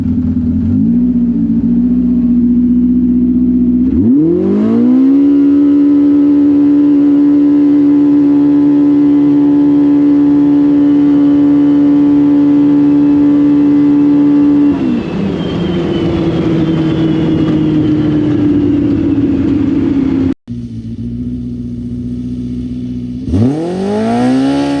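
A turbocharged car in race mode, fitted with an aftermarket turbo kit, launches for a 0 to 60 run. The engine note climbs sharply into a long, loud, steady high drone, shifts pitch, cuts off abruptly, then revs up again.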